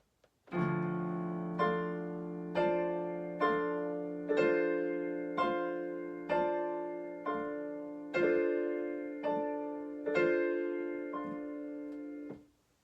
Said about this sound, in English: to accomplish this bell-like effect on the piano, Hurum composed the music so that the hands